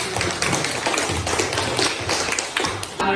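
Classroom applause at the end of a student biology presentation, a dense steady patter of many hands clapping together for about three seconds, loud and continuous with no talk over it.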